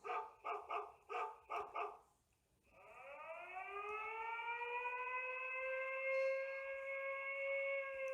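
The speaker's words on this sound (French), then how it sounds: "sonnerie du chien" A Xiaomi home alarm hub plays a dog-bark ringtone: six quick electronic barks in a rhythmic series, then a short pause and a long rising, steady siren-like wail that holds to the end.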